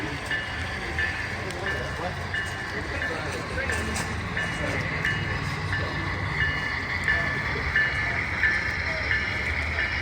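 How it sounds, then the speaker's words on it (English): A model train runs at a fair, giving a steady rolling rumble with a faint high running tone over busy background noise, and people talk in the background. "I'm chasing the train."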